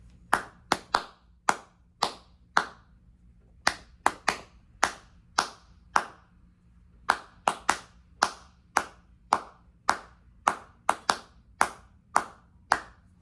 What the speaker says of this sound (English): And they tapped out the rhythm of these songs just on a table, kind of like this. I'm going to clap it.